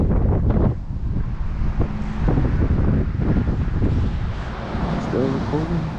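Strong wind buffets the microphone beside the Big Thompson River on a windy day, a loud rumbling low roar with gusty fluctuations throughout while people talk over it.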